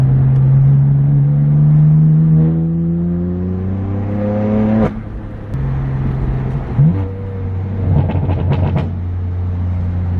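Straight-piped BMW M4 F82 six-cylinder exhaust revving hard up, a loud close rising roar that drops off sharply, then crackles and rumbles back down as the car settles, with no talking.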